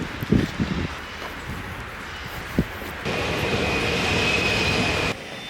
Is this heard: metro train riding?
yes